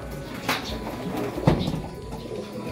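Racing pigeons at a loft during the SDR Derby 2025 give soft, low cooing calls, with a couple of brief coos standing out over quiet background rustle and knocks.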